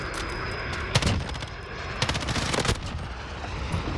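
M13 rifle gunfire in Modern Warfare, scattered sharp shots and short bursts over a constant noisy battle bed, fairly loud, with no speech.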